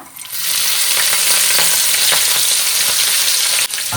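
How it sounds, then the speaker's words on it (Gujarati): Green chillies sizzle loudly in hot oil in a pan while cooking sambar for idli, a steady dense crackle with faint stirring scrapes, cutting off briefly near the end. "હવે એમાં આપણે નાખશું લીલા મરચા"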